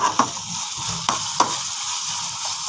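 Eggs go into a pan of frying masala, giving a steady sizzle with a few sharp stir and scrape knocks from a utensil, close and fairly loud with no talking.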